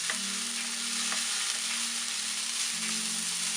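Sliced onions cook for ulli thoran in a pan, giving a steady, close sizzle and crackle of frying with faint stirring scrapes and no voices.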